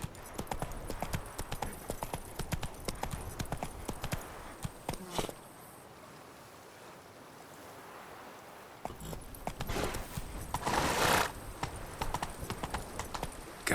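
Hooves of the horse Roach clip-clop in The Witcher 3, a quick rhythmic beat close by that pauses for a few seconds and then resumes, with a brief whinny-like burst and ambient game sound.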